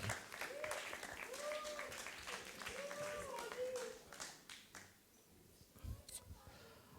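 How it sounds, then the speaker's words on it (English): A youth worship crowd claps for two students, a loose patter of applause with a few voices calling out over it, thinning toward the end. "All right, give them a round of applause."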